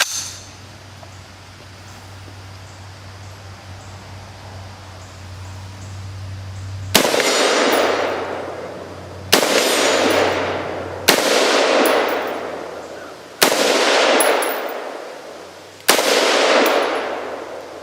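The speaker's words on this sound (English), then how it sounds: "it's basically an M4 semi-automatic. Well, let me shoot it" Five sharp rifle shots from an M4-style semi-automatic ring out at steel plates outdoors, each a loud crack followed by a fading ring, spaced about two seconds apart after a quiet stretch.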